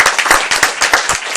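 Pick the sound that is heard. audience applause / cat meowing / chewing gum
audience applause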